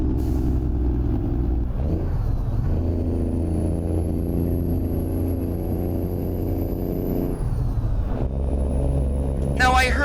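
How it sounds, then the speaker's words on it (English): Heavy truck engine in American Truck Simulator revving hard under steady load, a loud continuous low rumble with brief pressure shifts and a hiss near the end. "I'm mashing the motor"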